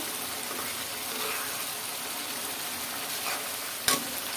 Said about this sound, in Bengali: মশলাটা খুব ভালো করে কষায় নিতে হবে